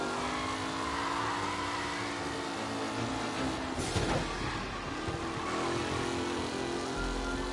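Race cars roar past in Mafia Definitive Edition, engines loud and continuous, with a sweeping pass-by surge midway before the drone settles again.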